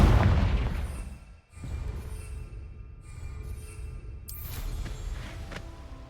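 In Hogwarts Legacy, the Confringo spell detonates as a loud opening boom that decays into a rumbling low roar, followed by a brief dip and a sustained echoing rumble with a later faint whoosh.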